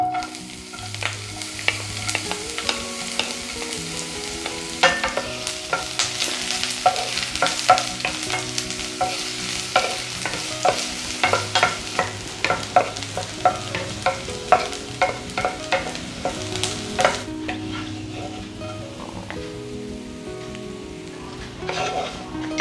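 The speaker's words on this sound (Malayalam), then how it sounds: "ചെറുതായി അരിഞ്ഞ ചെറിയുള്ളി ചേർത്ത് കൊടുക്കാം" Chopped shallots frying in ghee in a pan for cumin rice porridge, a steady close sizzle with frequent scraping and stirring clicks throughout, a faint tonal hum running underneath, and no one talking.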